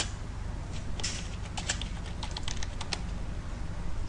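Rapid typing on a computer keyboard while form details are entered, a steady patter of clicks with a few sharper key strikes over a low background hum.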